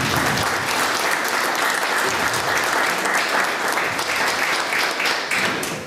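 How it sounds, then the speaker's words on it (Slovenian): A crowd applauds continuously, dense steady clapping that holds strong throughout and tapers slightly at the end. "šele sedaj boste ploskali"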